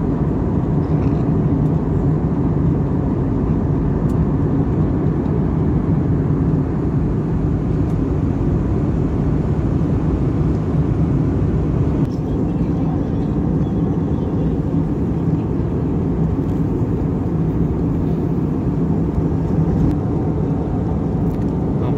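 A passenger jet cruises from Goa to Kolkata, filling the cabin with loud, steady low-frequency engine and airflow roar that holds unchanged throughout, with no talking.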